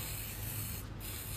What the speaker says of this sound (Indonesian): Jadi luar dalam itu kita semprot sampai bener-bener bersih cuy.